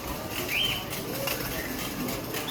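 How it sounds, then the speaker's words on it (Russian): Parrots and other small birds chirp at an outdoor bazaar in Tashkent, Uzbekistan, brief high calls rising over a steady crowd murmur and market bustle. "птички поют какие-то"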